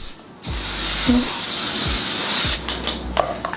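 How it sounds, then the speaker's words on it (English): A close aerosol spray of hair sheen spray hisses in one continuous burst of about two seconds, then stops, with faint rustling around it. "Let's hit me with some sheen spray."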